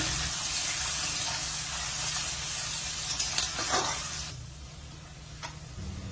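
Chopped onions fry over a medium flame, giving a continuous close sizzle with some scraping and stirring partway through before the hiss settles quieter near the end.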